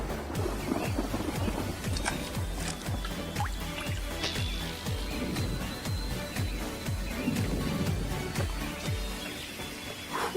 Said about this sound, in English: The rain started to get hard